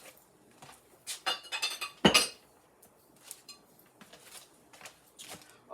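A small pan taken out of a kitchen cupboard, with close metallic clanks and clinks in short clusters and one sharp louder clatter partway through, then lighter rattles.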